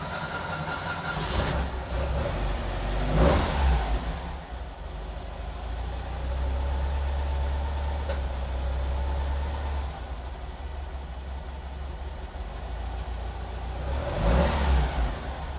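Car engine cold start after two pedal pumps, catching and settling into a low, rough idle with a couple of exhaust pops and revs, steady close rumble throughout.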